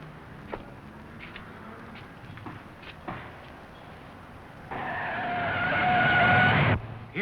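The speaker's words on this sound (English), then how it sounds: "Here comes that same car." A car in a 1940 theatrical serial approaches, and its tires skid with a loud sustained screech lasting about two seconds before cutting off, heard after quieter background noise and a few faint knocks.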